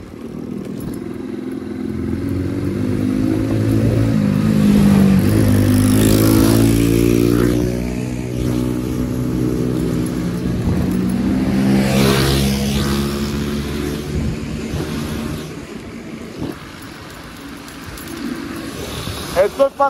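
Motorcycles and a car revving on an evening ride, engine roar rising and falling through long swells with crackling pops near the end, loud and close, with voices talking over the engines.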